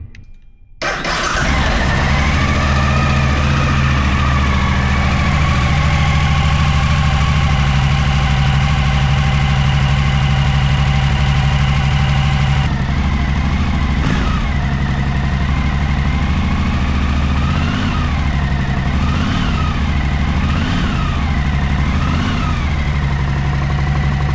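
A motorcycle engine freshly filled with Delvac oil cranks and catches, then settles into a steady, loud idle with a few brief revs near the end.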